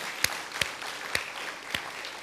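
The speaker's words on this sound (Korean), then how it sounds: "박수하겠어요." A church congregation applauds during a Sunday worship service, with a handful of sharp, distinct claps standing out over a steady wash of clapping from the room.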